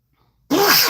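A single sharp, loud sneeze bursts out close by after a moment of near silence, its explosive onset trailing into a short breathy tail.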